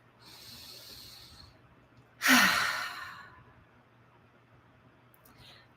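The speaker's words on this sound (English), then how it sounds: "Okay, take a breath." A single deep breath drawn and released near the microphone during a calm EFT tapping session, one clear audible sigh-like exhale standing alone in a quiet room.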